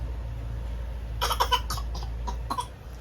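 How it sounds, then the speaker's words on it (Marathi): A child gives a few short, forced coughs in a quick burst, then one more cough after a pause, close to the microphone. "खोटा खोटा खोकला खोकू येतो"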